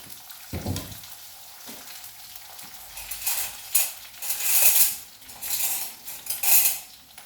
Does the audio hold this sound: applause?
no